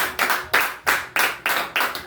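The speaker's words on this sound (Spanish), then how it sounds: "Fuerte aplauso al Espíritu Santo." During a Spanish-language church service, loud hand claps ring out in a steady unison rhythm, about seven strong beats spaced evenly and close by.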